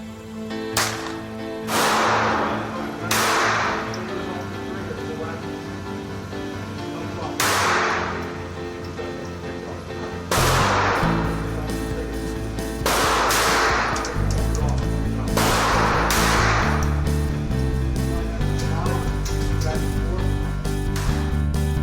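A Ruger SR-22 .22 pistol is fired outdoors in a series of sharp, loud single reports, spaced unevenly a second or more apart, each ringing briefly before the next shot.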